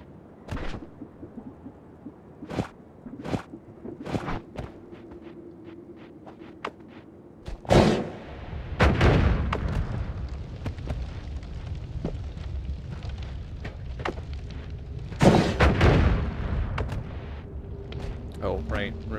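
Fire bolt spells in Noita detonate repeatedly, sharp cracks and booming blasts scattered throughout, with a dense rumbling run of explosions midway and another big burst later, over a steady game hum.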